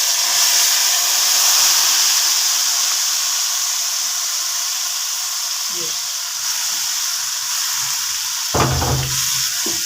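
About half a cup of hot oil goes into kadhi in a frying pan, producing a loud, steady hiss that holds throughout, with a short clatter of utensils near the end.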